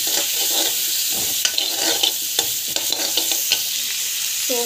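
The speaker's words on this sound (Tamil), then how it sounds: "இது பார்த்திங்கன்னா நல்லா வந்து ஃப்ரை ஆகணும்" Biryani spices with fresh coriander leaves, fennel seeds and cumin sizzle steadily in a hot pan, with several clear scrapes and clinks of a spoon stirring through the mixture; no one speaks.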